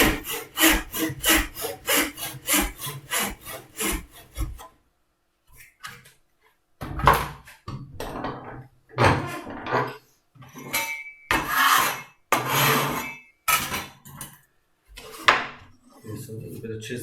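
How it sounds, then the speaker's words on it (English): Chisel work in wood while shaping a slot for an iPhone holder: a run of close, rhythmic scraping strokes, then a pause and scattered sharper cuts and taps, fairly near with some talking between. "So a little bit of chiseling to do now."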